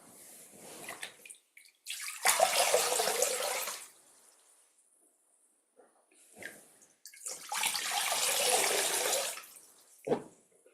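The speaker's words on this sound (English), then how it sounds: "we can take the water and we can wash our feet" Water poured out in two long splashing bursts for washing feet, with quiet gaps and a brief splash between them, close by and with no one talking.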